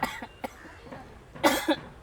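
A man coughs several times in short, sharp bursts at close range, with quiet pauses between them during a comedy scene.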